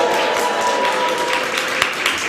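A seated audience at an evening event breaks into applause and cheering, a steady wash of clapping hands that holds at a loud level for a couple of seconds.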